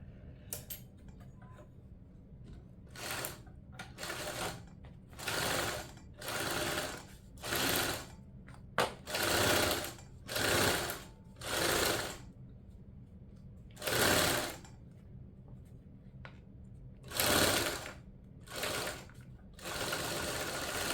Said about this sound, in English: we're gonna sew this at 3/8 of an inch seam allowance